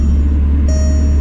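Secondary air pump motor on a 2003 Volkswagen Turbo S whirs at close range, a loud steady drone with engine hum beneath and a thin whine rising partway through.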